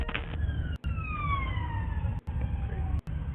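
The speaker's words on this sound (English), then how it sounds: "a police car with sirens can be heard in the background" A police car siren wails with a falling pitch as it passes, fairly faint and steady against a low traffic rumble.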